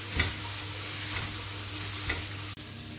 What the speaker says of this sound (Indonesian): tomato puree, pasta tomat. Ini kita masukkan aja, terus kita aduk